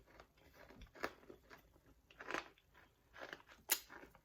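Crunchy chewing of shortbread cookies heard close up, a few sharp crisp bites and crackles spaced irregularly over quiet background.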